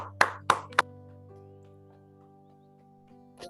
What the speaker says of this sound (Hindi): उससे पहले हम ताली बजाएं ध्यान को खत्म करने के लिए।